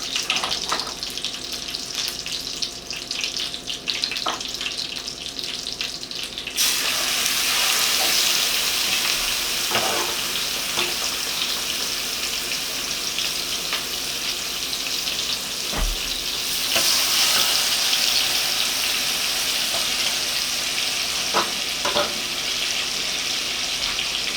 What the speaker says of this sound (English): Now I'm going to put the steak in.